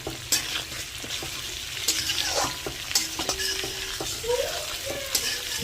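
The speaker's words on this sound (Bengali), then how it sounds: "এবার মুগ ডালগুলো জানি না পুড়ে যায়, ভালো মতন ভাজতে হবে" Moong dal frying in a kadai, with a constant oily sizzle and repeated scraping clinks of a spoon as it is stirred, the strokes landing at uneven intervals with no voices.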